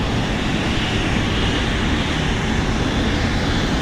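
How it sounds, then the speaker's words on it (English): A United Boeing 777 jet taking off for Tokyo Narita, a steady, loud broadband engine roar with no break, heard from nearby. "there goes that United 777 off to Tokyo Narita"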